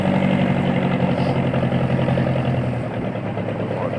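A fishing motorboat's engine runs on the way to Lemukutan Island in West Kalimantan, a loud steady close droning hum with a strong low pitch that eases slightly toward the end.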